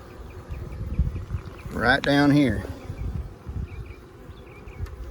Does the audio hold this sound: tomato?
no